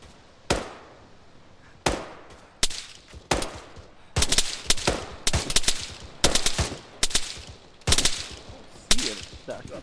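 Gunfire exchange in a coastline-clearing video game, with sharp single shots giving way to rapid bursts of automatic fire, loud and close.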